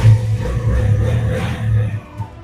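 A motorcycle engine idles steadily with a low, smooth rumble, close by, easing off slightly near the end.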